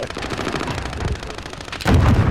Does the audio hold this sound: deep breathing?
no